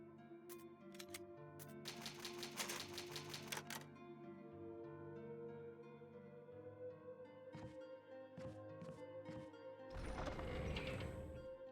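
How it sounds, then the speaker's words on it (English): Old typewriter save point in the Resident Evil HD Remaster video game, with a burst of rapid mechanical key clacks early on, later scattered taps and a clunky flourish near the end, heard over a steady low game ambience. "Old typewriter. You can save your progress."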